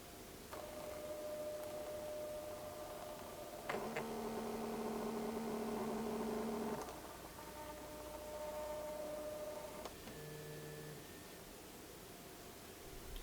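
A Reolink E1 Zoom security camera's rotation motor gives off a faint, steady whirring hum. It swells and drops in stretches as the camera turns, then settles back to a quiet background drone.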